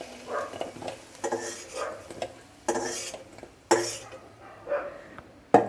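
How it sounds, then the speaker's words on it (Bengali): A spatula scrapes fried fenugreek greens out of a wok into a bowl, giving a series of distinct metallic scoops and clanks with brief sizzling between strikes, loud and near. "তো এটাকে আমি একটা পাত্রে তুলে নিচ্ছি"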